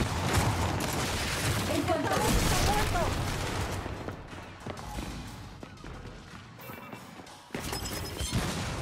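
Rapid bursts of Gears 5 gunfire and crashes fill the scene, loud and dense at first, with scattered shots and voices over it.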